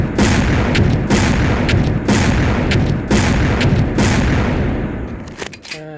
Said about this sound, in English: So then we have the grenade launcher